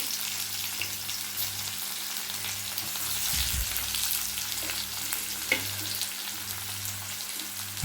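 Garlic, green chillies, onion and chana and urad dal fry in hot oil, a steady close sizzle with occasional stirring scrapes and a low hum underneath, no talking.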